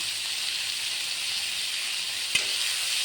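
Chopped onion goes into a pan of hot oil with ground cumin and coriander for a Bengali fish curry. A steady, close hiss and sizzle carries on throughout, broken by one brief knock midway, with no voices.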